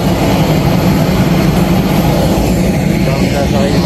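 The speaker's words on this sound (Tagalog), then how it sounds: "dito na kami sa aeroplano" Airplane cabin on a flight home to the UAE from Zvartnots Airport, Armenia. A loud, steady engine roar and broadband rumble fill the cabin without letup.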